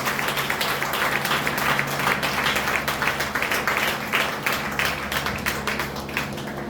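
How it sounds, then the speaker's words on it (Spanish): A church congregation applauds at a sermon, many hands clapping in a dense, continuous patter with distinct sharp claps poking through, over a low steady hum, and no speech on top. "Dale un fuerte aplauso"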